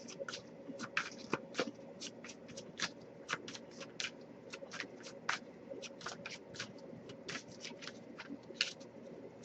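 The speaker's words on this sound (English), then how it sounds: "if I shuffle for a while and nothing comes up, I'll just move on to the next Oracle card" A deck of oracle cards is shuffled by hand in a steady run of crisp, rapid riffling snaps and flutters, close and continuous, with no talking.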